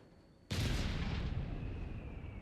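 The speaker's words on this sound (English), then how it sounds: "So I appreciate the heavy artillery." Heavy howitzer artillery in Company of Heroes 3 lets off a single loud, close boom with a sharp onset, followed by a long rumbling roar that slowly fades over a couple of seconds.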